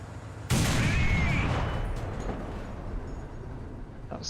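A single heavy boom from an SU-100P self-propelled gun firing in War Thunder, loud and close, followed by a long rolling rumble that slowly fades, with no talking.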